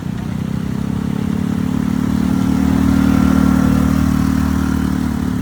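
An ATV engine runs with a steady mid-pitched drone and mechanical clatter while being ridden through a forest, swelling slightly as it gains speed, loud and close, with no talking.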